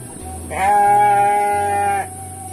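A sheep in an Indonesian village lets out one loud, close, sustained bleat lasting about a second and a half, heard alone over a low background hum.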